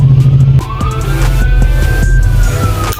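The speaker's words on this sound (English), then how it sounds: "Do you guys hear the sirens?" Emergency sirens passing outside, a loud wailing tone rising and falling over traffic noise as the vehicle goes by, with no talking.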